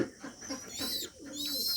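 A young pigeon coos close by in short soft repeated notes, with higher chirping squeaks layered over them through the brief stretch.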